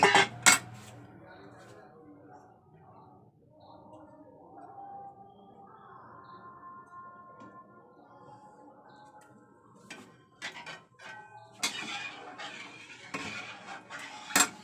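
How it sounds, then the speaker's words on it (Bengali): Loud metallic clatter of a wok being handled and scrubbed, with a quieter stretch of scraping and rinsing in the middle before more bangs and clanks. "কড়াইটা ভালো করে ধুয়ে নেব"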